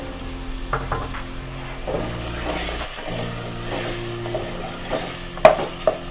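Bone-in mutton sautéing with coriander and cumin in a pot, a moderate steady sizzle with occasional stirring clatter and a low hum beneath, no voices.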